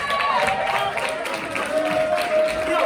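An outdoor park crowd at a Valentine's stand-up comedy show claps and cheers to welcome a comedian, a dense, steady wash of applause lasting throughout with voices mixed in.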